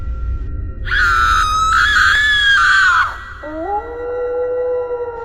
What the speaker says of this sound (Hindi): तभी जंगल में भेड़िए के चिल्लाने की आवाज आने लगती है।